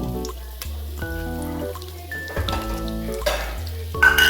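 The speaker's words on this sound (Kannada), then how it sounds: "ಕರಿಬೇವು ಸೊಪ್ಪು ಹಾಕಿ ಸ್ವಲ್ಪ ಹುರಿದುಕೊಳ್ಳುವ" Curry leaves frying in hot oil in a pan for a garlic chicken dish, a steady crackling sizzle with stirring and occasional louder spits.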